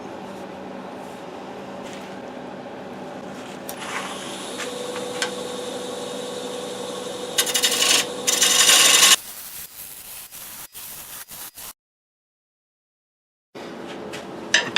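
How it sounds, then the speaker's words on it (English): A 1/2 inch bowl gouge is sharpened for wood turning. A steady grinding rasp with a ringing tone builds to a harsher, brighter burst, then drops out into brief silence before the noise resumes. "I just sharpened my 1/2 inch bowl gouge"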